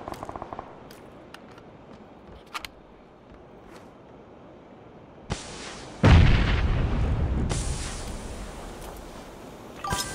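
In PUBG, a grenade goes off with a loud burst of blast noise that rolls on as a long, rumbling tail. Faint clicks and lighter game sounds come before it.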